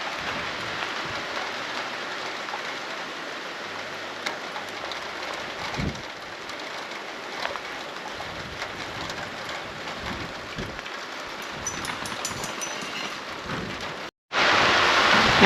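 Steady rain falls during a rolling storm, drumming on surfaces with a dense hiss, while low thunder rumbles in the distance; the downpour continues unbroken, with a brief dropout near the end.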